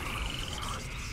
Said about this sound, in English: That's the poison frog.